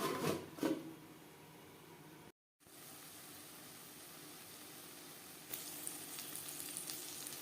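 Fish oil and spring onions fry in a pan on medium to low flame, a quiet, steady sizzle close by, briefly interrupted by a short gap, with a few knocks near the start.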